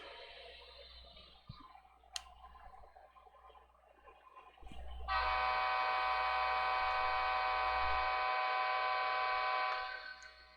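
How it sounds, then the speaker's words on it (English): A small HO scale model train horn, its button stuck, blares continuously and steadily for several seconds without stopping, loud and close, after some quiet clicking and rumbling. "That's what you call a stuck horn button."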